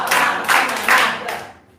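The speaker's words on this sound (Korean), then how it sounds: "자, 박수 2번. 박수 3번. 박수 4번. 박수 5번. 시작." A crowd at a lecture claps in unison on cue, four loud, evenly spaced group claps in quick succession before the sound fades away.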